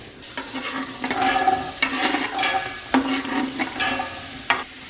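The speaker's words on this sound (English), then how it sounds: "I saute them all together because I just want everything to soften real good." Onions, celery and carrots sauté together in a pan, a steady sizzle broken by repeated scraping stirs of a utensil, close and fairly quiet with no talking.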